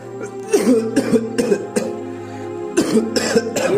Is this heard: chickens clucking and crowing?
no